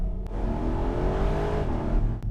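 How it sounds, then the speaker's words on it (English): A turbocharged Porsche 911 GTS Cabriolet engine revs hard and climbs steadily in pitch as it accelerates, loud and close, with a continuous deep growl throughout. "The sound here from the turbo, it's not the same as the naturally aspirated GT3"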